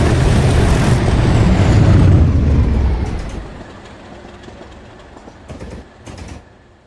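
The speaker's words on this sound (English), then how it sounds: "the train departs Falkingham for Renford." A passenger train pulls away on rails in a train simulator game between two stations, with a loud rumbling roar for the first three seconds that fades to a quieter running hum with a few faint clicks.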